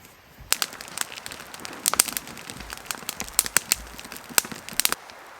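Campfire crackling at a canoe campsite in Algonquin Park, with irregular sharp pops and snaps scattered over a quiet, steady background, close and moderately loud.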